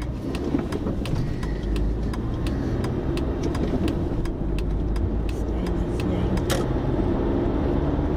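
A Mk4 Golf GTI drives along a dual carriageway, its engine and road noise forming a steady, continuous drone throughout, with occasional faint ticks from inside the cabin.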